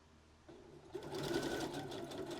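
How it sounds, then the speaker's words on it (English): A sewing machine stitching across a kimono wrap dress starts up after a moment of quiet, then runs in a steady, fast whirring hum at close range. "I'm going to sew across there to really hold that in place."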